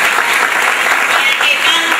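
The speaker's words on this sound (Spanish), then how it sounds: "mejor que darle un gran aplauso" Audience applause at a theatre performance, a dense, steady wash of clapping filling the room for about two seconds without pause.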